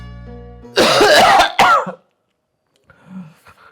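Someone nearby coughs hard in a harsh, raspy burst followed by a second short cough, then near silence with faint background noise.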